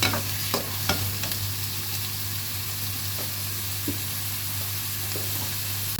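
Onion, tomato and green chilli frying in a pan, a steady moderate sizzle over a low hum, with a few sharp spatula knocks and scrapes near the start and sparser ones later.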